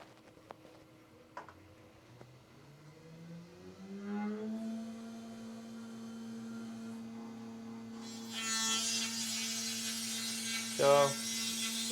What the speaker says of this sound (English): go to our milling MDX-42 and select the facing job and hit output